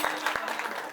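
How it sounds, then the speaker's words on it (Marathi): Audience applause at a Marathi kirtan gathering, a dense continuous wash of many hands clapping together for the full second, steady and fairly loud. "सर्वांनी एकदा गोड अशी टाळी वाजवायची."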